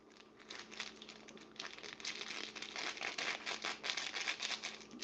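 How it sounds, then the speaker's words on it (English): Plastic sugar bags crinkle softly and continuously nearby in a quiet kitchen, a faint rustle that grows a little busier toward the end. "Sugar bags making noise."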